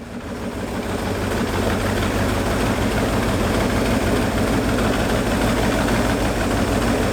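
A De Tomaso Pantera engine idles steadily after a carburetor rebuild, a continuous low rumble with an even throb that holds constant from start to finish.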